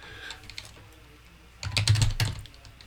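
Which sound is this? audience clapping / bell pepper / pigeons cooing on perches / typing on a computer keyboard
typing on a computer keyboard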